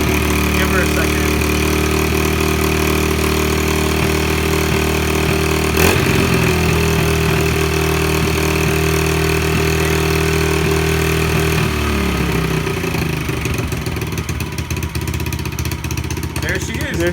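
A 2011 Yamaha TTR110E dirt bike engine idling loudly on choke, a steady close putter that holds for about twelve seconds before dropping off, with people talking over it.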